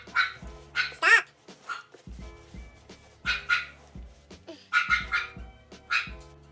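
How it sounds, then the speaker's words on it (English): A dog barks in short bursts, sharp yaps and a few whiny yips, irregularly spaced, with faint clattering in the background. "Otis, stop barking!"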